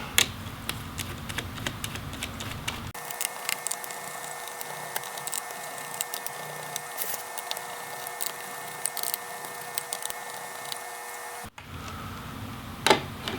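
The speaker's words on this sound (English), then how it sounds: "We're just going to take off the rest of the fan and heatsink screws." Fan and heatsink screws being removed from an Asus ROG Strix SCAR II GL704G laptop, heard as scattered small clicks and taps from a screwdriver against a steady hum, close and quiet, without speech.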